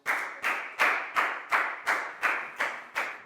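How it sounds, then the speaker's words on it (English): A classroom group claps in unison for a student, about nine loud, evenly spaced claps in a steady rhythm, close by, with no talking. "a big round of applause for Pak Bung"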